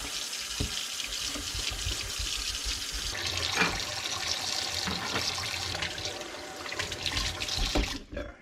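Tap water runs steadily into a sink as it is rinsed clean, a continuous close splashing rush lasting the whole stretch and stopping abruptly at the end.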